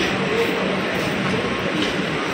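Train rumble at New Garia metro station, a steady broadband roar of rolling stock with low mechanical thumps, continuous and fairly loud throughout.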